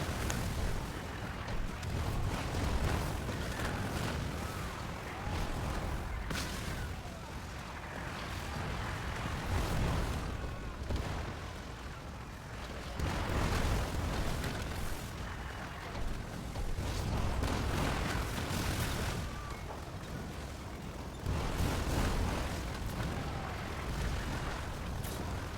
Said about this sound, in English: So we're just putting some mortar fire on there.